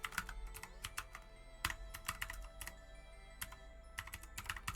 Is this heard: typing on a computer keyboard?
yes